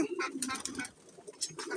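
Pet pigeons coo softly and close by in short, repeated low throaty calls, with faint rustling between them.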